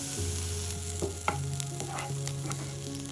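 Chopped onions fry in a pan for potato tacos with a soft, steady sizzle, and a few quiet clinks and scrapes come from stirring.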